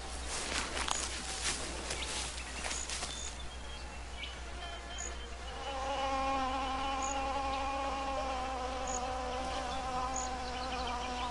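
A male wasp buzzing at an orchid flower as it tries to fly off with it, a close, steady insect drone with several shifting pitch bands that swells louder partway through and holds to the end.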